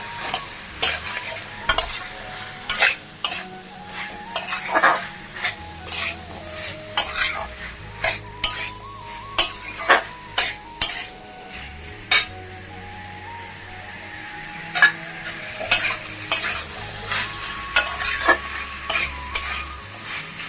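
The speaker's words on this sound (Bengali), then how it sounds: "এখন ভালো করে কষিয়ে নেবো" Chicken and chickpeas with soy and tomato sauce being sautéed in a pan, a close, loud sizzle punctuated by a steady run of metal spoon scrapes and clinks against the pan throughout.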